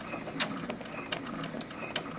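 Embroidery machine stitching the outline of an applique block, running as a steady mechanical whir with quick repeated needle ticks throughout, close and continuous.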